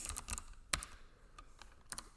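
Code being typed on a computer keyboard: a few quick key clicks and one louder clack, close up, with soft keystrokes between them and no talk.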